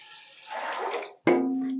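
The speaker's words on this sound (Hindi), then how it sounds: "सिंपल पानी डालना है" Water pours from a vessel into a pressure cooker holding washed chickpeas, a splashing gush that swells and fades, followed by a sharp clank and a ringing metallic tone.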